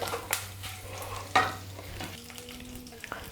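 Spices for a mint chutney tempering sizzle faintly in a hot pan, with a few stirring scrapes and crackles over a low steady hiss and no talk.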